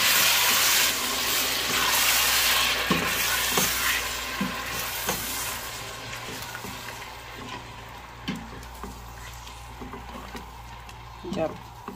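Medium-size onions fry in a pan with a steady sizzle, punctuated by occasional stirring scrapes and clinks, while faint talk is heard in the background.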